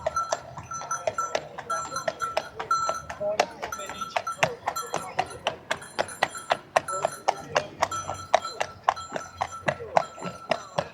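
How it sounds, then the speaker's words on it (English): A horse-drawn carriage clip-clops across a square in Pisa, Italy, with crisp, rhythmic hoofbeats ringing close by on stone for the whole stretch, while someone talks intermittently over them. "Looks like you can get a taxi, horse and carriage."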